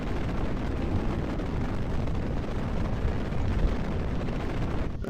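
A rocket lifts off in Kerbal Space Program with a loud, steady roar of rushing, broadband engine noise that holds without a break. It cuts off abruptly just before the end.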